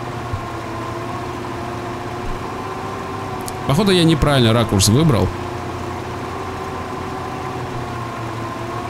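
A Ural off-road truck's engine in the Spintires driving game idles in mud with a steady low droning hum and tonal whine throughout, while someone talks briefly over it partway through.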